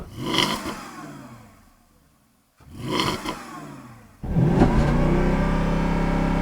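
A Porsche engine run with its oil drained revs hard twice, each rise sharp then decaying back toward idle, before a third rev climbs and holds at a steady high-rpm drone against a limiter.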